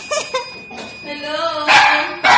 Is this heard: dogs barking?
yes